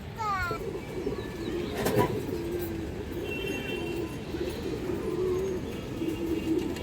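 Pigeons coo steadily in a loft, among them a silver female, with low repeated rolling calls near and continuous, plus faint higher chirps.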